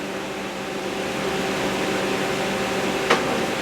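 A Ninja Combi cooker running on saute makes a steady, even appliance hum, with a single sharp click near the end.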